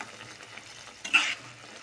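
Water poured into a pan of frying chapila fish curry with ridge gourd gives a short, bright hiss-and-splash burst, then a softer simmering crackle, close by with no talk.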